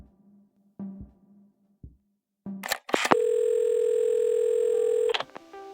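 In the video game Assemble with Care, a few soft clicks and handset clatters lead into a loud, steady telephone dial tone that holds for about two seconds, then cuts off with further clicks.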